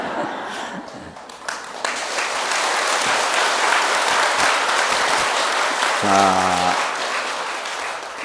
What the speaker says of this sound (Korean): 이제 박수 많이 치셨으니까